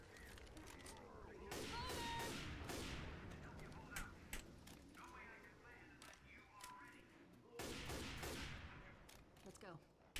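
Rifle gunfire in Left 4 Dead 2, with bursts of sharp shots sounding in clusters across the clip, loudest near the start and again toward the end, mixed with game noise and people talking.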